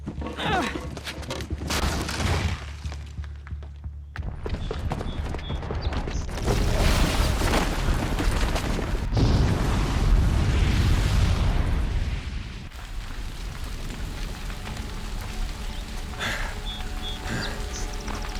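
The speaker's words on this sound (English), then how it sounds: "the booby trap on the bomb downstairs is gonna get set off" A bomb booby trap goes off in Horizon Zero Dawn, a loud booming blast with rumbling debris and bursts, a second heavy surge in the middle before settling into lingering game rumble.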